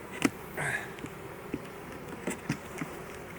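Honeybees hum faintly through a hive inspection, a low steady buzz with a few brief close passes and light taps of frame handling.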